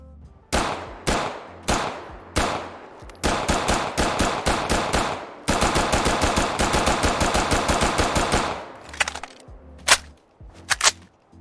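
A Linda carbine fires semi-automatic in Fallout 4: loud, sharp single shots, first spaced, then in fast steady runs of rapid trigger pulls, followed by a few metallic reload clicks and clanks.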